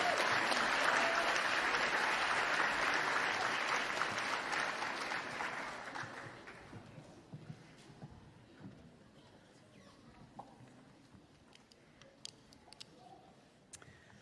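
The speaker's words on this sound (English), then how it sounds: "I know we've been doing a lot of clapping" Applause at a postgraduate medical education convocation, a full, loud wash of clapping that fades out around the midpoint, leaving scattered isolated claps and light clicks in a quieter room.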